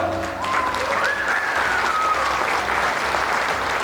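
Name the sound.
applause at a wedding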